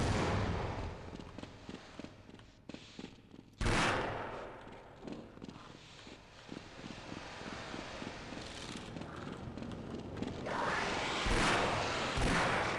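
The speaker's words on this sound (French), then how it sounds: "Mais il est trop fort ce flingue." Gunfire from a weapon in the video game Half-Life rings out in rapid bursts of shots with a loud blast partway through and dense rattling fire toward the end, over a busy game soundscape.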